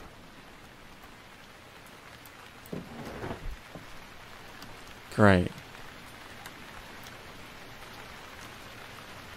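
Rain falling in the Stranded Deep survival game, a steady soft hiss of drops throughout, with someone speaking briefly over it and a short sharp sound rising in the middle.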